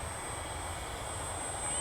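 FMS 1400mm Piper J-3 Cub RC model airplane in flight, with a faint, steady electric motor and propeller drone and a thin high tone, heard at a distance under outdoor background noise.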